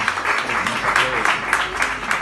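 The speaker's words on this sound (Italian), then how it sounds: "un bel applauso per lei" Audience applause at an evening concert tribute to an opera singer, a steady dense wash of clapping filling the room throughout, with a faint voice underneath.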